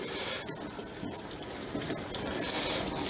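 Tap water runs steadily into a sink while soapy 3D printer bed plates are rinsed off, a continuous close splashing broken by a few brief clunks of the plates being handled.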